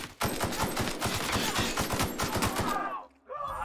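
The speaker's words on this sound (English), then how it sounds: "Maybe we should use our assault rifle." Rapid bursts of assault rifle fire in the video game The Outer Worlds crack out in a dense, steady volley for about three seconds, then stop briefly before firing picks up again.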